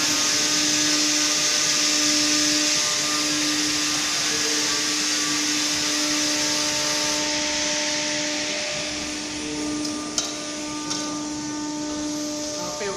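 A 4-axis CNC machine with automatic tool changer runs steadily in a workshop, giving a continuous mechanical hum with a sustained whine and a couple of brief clicks near the end, without talk.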